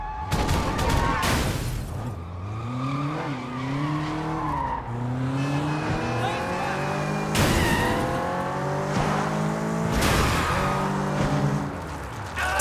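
A car driven in the video game Sleeping Dogs roars with its engine revving and its tires squealing through turns. The sound is loud and continuous, with sharp skids and crash-like bursts along the way.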